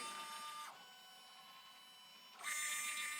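A Poolin EOC06 single-needle embroidery machine runs a trace, giving a steady mechanical whir and hum that drops quieter partway through and then rises louder again near the end, with no talking.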